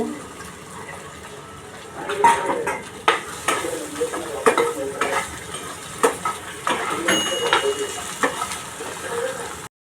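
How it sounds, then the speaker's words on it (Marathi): Sliced okra sizzling in hot oil in a kadhai while a spatula scrapes and stirs the pan in repeated strokes, close and fairly loud. "भेंडी छान परतून घेते त्याचा चिकटपणा जाईपर्यंत"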